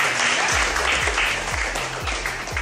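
A classroom full of students applauds in a dense, steady wash of claps lasting a few seconds, with a low droning hum underneath and no distinct speech.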